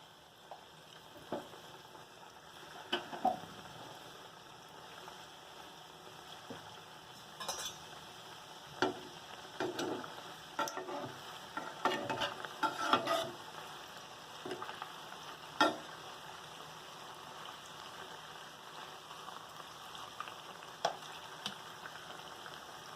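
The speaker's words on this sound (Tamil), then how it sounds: "நம்ம மிதமான சூட்டில் இந்த ஆயிலில் நம்ம இந்த உருட்டி வச்ச ஜாமுன் உருண்டையை வந்து நம்ம போட்டு" Gulab jamun dough balls frying in oil over moderate heat, a soft continuous sizzle broken by occasional clinks and stirring taps of a utensil, close and fairly quiet.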